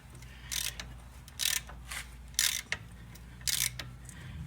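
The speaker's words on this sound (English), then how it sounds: "I'll get this bolt out, and then I'll get these two bolts loosened." A hand ratchet works the brake caliper bolts on a Dodge Ram 2500 HD with a 5.7L Hemi, giving four short, close bursts of rapid clicking separated by brief pauses, with no talk.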